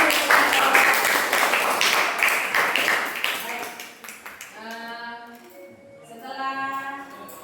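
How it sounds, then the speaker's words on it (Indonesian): Students in a classroom clap their hands together, a dense burst of applause that fades after a few seconds, followed by a teacher and pupils talking. "Oke, kita tepuk tangan dulu"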